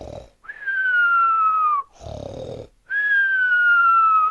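A voice imitates a bear snoring, making two long, drawn-out whistling tones separated by a rough, grunting inhale, loud and close in a slow rhythm with no other speech.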